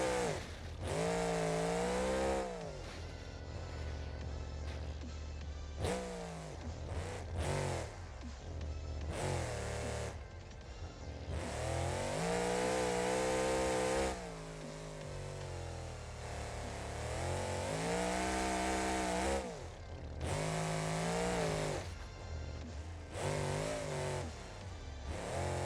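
A monster truck engine in the driving simulator BeamNG.drive revs and drones continuously, rising and falling in pitch as it accelerates and backs off, loud and close with no talking.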